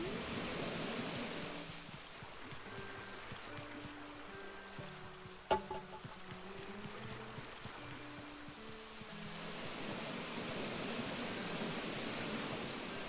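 Gentle rushing water from a waterfall in a Japanese-themed garden area with a bonsai tree on a winter island in Animal Crossing New Horizons, a steady soft hiss running throughout with faint game tones and a brief click midway.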